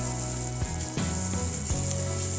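Garlic cloves sizzle steadily in a hot pan while a utensil scrapes and stirs through them a few times, the frying hiss soft and continuous.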